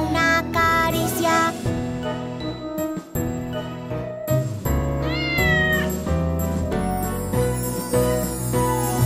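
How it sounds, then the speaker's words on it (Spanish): A children's song about a red-haired kitten, where repeated cat meows sound over bright, tinkling music and melodic backing, several distinct meows in a row. "Yo soy un gato pelirrojo y mis ojitos son marrones."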